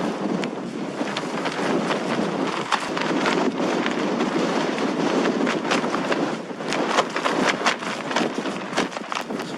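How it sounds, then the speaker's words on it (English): Strong wind buffets the microphone in constant gusty rushes outdoors in the morning at a wild camping spot near Ilkley, loud and rough throughout with no voices. "It's a windy one this morning."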